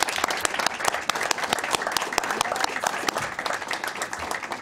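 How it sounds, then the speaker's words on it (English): A room full of people at a school board of education meeting applauds student athletes, brisk sustained clapping from many hands, fairly close and even, with no talk over it. "One more round of applause for everyone."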